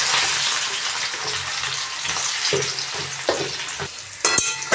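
Chopped onion sizzles in three to four spoonfuls of hot oil in a pan for pav bhaji, a steady frying hiss broken by occasional stirring scrapes and clinks near the end, close and without talk.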